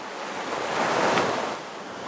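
Ocean surf washes steadily at a shoreline near a former river estuary, a continuous broad rush that swells in the middle and eases slightly, with no voices.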